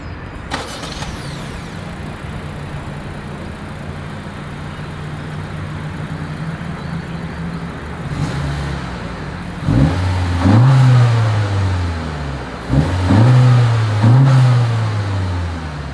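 Honda CR-V EX-L exhaust, first idling steadily at the rear, then revved in two sharp blips, each swelling and falling back to idle, loud and close with no talking.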